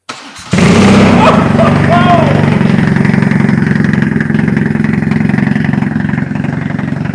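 A customised BMW R nineT motorcycle engine starts abruptly and settles into a loud, steady warm-up idle with a low rumbling throb, close by, with faint voices in the background.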